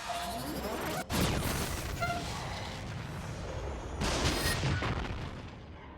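A pod in the video game NieR Automata fires in close range mode at maximum output: a sharp blast, then a sustained roaring energy discharge that swells again midway, loud and close, with music underneath.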